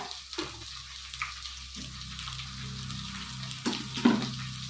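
Large pieces of bottle gourd frying in oil in a pan, a steady low sizzle with occasional stirring scrapes and a couple of louder clatters near the end, no voices.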